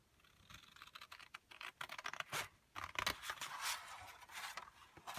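Scissors cut the corners of paper for a heart-shaped explosion box, giving faint, close snips and scratchy paper rustles in a quiet room.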